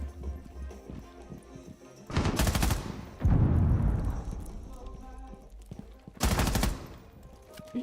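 Rapid automatic gunfire in a video game, two loud bursts a few seconds apart, with muffled in-game sounds and talk in between.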